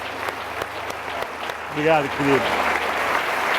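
A church congregation applauding, a steady wash of clapping that continues throughout, with a voice speaking briefly over it midway.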